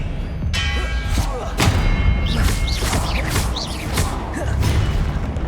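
Expelliarmus cast in Hogwarts Legacy on PS5, heavy thuds, booms and whooshing spell effects layered with game sound, loud and close, with brief bursts of voice mixed in.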